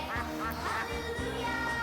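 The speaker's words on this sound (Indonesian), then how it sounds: "Lebih aneh binatang bebek." A duck quacks several times in quick, nasal bursts, fairly close and moderately loud against a steady background.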